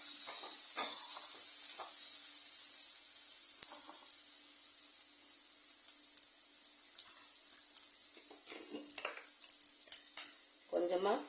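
Onions and fennel seeds frying in hot oil for a double beans kurma give a steady, bright sizzle throughout, with a few soft scrapes and clinks from stirring near the end.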